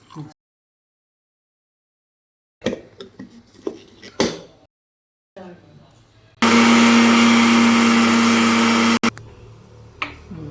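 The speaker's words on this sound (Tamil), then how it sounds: "இது எல்லாம் இப்போ மிக்சியில் அப்படியே பச்சையாக அரைச்சிக்கலாம்." After some clattering and handling noises, a kitchen mixer grinder whirs loudly for a few seconds grinding raw spices and horse gram for rasam, then stops, followed by more light clatter.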